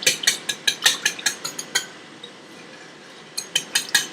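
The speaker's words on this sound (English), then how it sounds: "you can just sit there awkwardly watching me whisk while I try to get this mixed together" A whisk clatters rhythmically against a bowl, mixing wet ingredients and breaking up solidified butter, with quick sharp clinks in bursts, a short pause, then more strokes close by.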